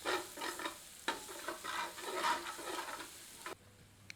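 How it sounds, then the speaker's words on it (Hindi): Freshly ground tadka masala for dry chana dal, stirred and roasted over low heat in a pan: soft scraping strokes and a gentle sizzle, quiet and close, ending with a clink. "मिलाकर 1 से 2 मिनट धीमी आंच पर भूनते हैं।"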